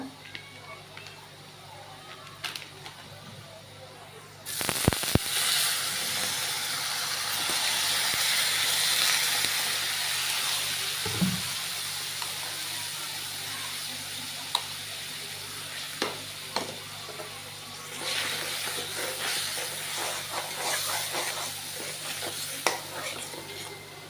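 Potatoes frying with a steady sizzle in a pan while cauliflower waits to be added, the hiss rising sharply and staying loud close by, with occasional stirring clinks and a brief low knock partway through.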